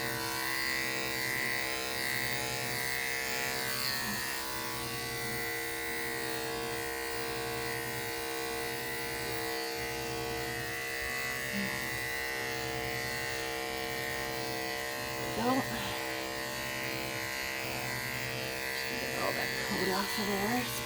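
Electric clippers buzz steadily throughout while shaving a cat's thick, matted mane, a close continuous hum with a person talking intermittently over it.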